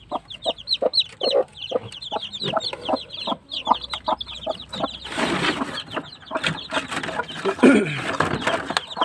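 Chickens cluck repeatedly in short, busy bursts close by, with a denser, noisier flurry of fowl sounds and possible wing flapping in the second half.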